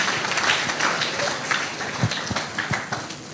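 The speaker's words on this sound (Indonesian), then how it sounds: "Oke, beri tepuk tangan yang meriah ya." A crowd gives hearty applause during a Rocky Gerung question-and-answer session at the Supreme Court, a steady mass of clapping that runs throughout with a few sharper claps standing out.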